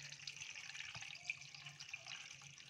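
Water runs and splashes steadily into a pressure cooker of okra and meat curry, about one glass poured, a soft continuous pouring with faint drips, fairly quiet and close.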